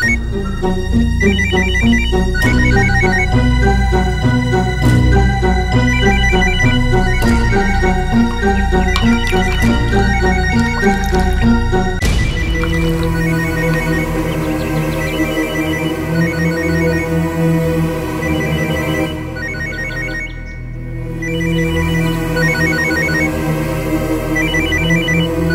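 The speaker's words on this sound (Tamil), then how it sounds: "phone full ring போகுதுமா" A telephone rings on and on with a loud electronic ringtone, repeating its tone pattern for the whole stretch with no one answering and no talk over it.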